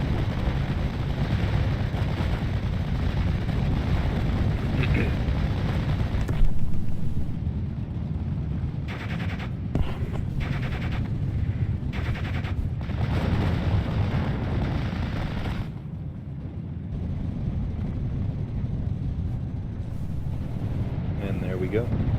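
Gunfire and explosions from an online war video game where a high-explosive tank is deployed, forming a dense, continuous low rumble of blasts and shots with brief lulls. Someone talks over the combat throughout.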